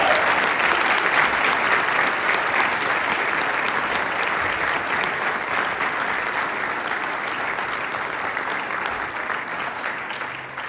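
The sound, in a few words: audience applause welcoming speaker Steve Deace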